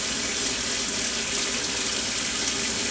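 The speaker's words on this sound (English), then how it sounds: "wash your hands with hot water" Hot tap water running steadily into a sink during handwashing, a constant close hiss and splash with no break and nobody talking.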